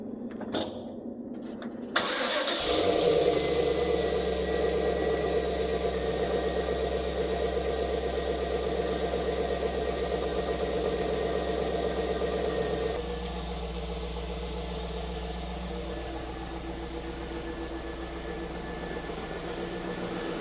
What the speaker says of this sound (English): let's get you a cold start on this one